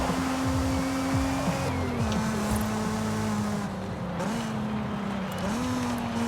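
A car engine in Forza Horizon 5 drones loudly through a hot lap, holding a steady pitch that dips as gears shift and climbs again, with faint tire noise underneath.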